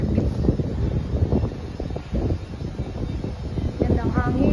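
Gusty wind at a condo pool area buffets the microphone with a rumbling, fluttering roar, while a person speaks intermittently underneath.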